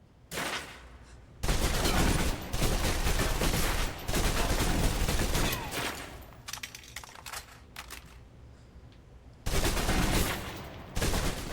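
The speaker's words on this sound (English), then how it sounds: "Now, let's move on to the submachine gun. Now let's empty the clip." Rapid submachine gun fire empties a clip in the video game Alpha Protocol, dense bursts of loud automatic shots in several long strings with brief pauses between them, and no talking.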